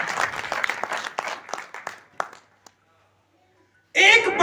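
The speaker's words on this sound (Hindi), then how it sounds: "एक बार आपके लिए जबरदस्त ताली" An audience at a Ludhiana seminar applauds. The sharp, scattered claps quickly taper off into a brief silence before a voice resumes.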